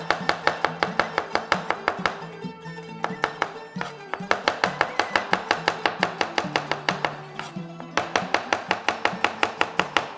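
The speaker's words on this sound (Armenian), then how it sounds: "կանաչ սոխը կտրատենք" A knife chops green onion on a cutting board in a home kitchen, a fast, steady run of crisp close taps with brief pauses between bursts and no talking.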